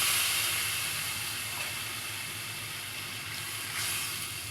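Liquid poured into a simmering curry of stinging catfish (shing fish) with tomato, giving a steady close hiss and wash that runs alone and swells slightly near the end.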